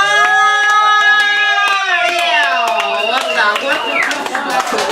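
Clapping and cheering from a crowd at a club birthday party, with sharp hand claps scattered through loud, sustained music and raised voices that dominate the sound.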